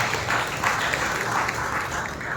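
An evening church worship congregation claps loudly together in a sustained, even roar of applause with no break.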